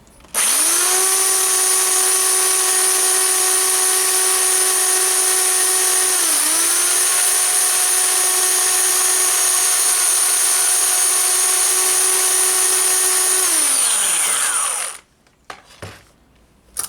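A Black+Decker KA900E power file runs against a metal gauntlet edge with a loud, steady, high motor whine. It dips briefly midway, winds down near the end, then gives way to a few faint handling knocks.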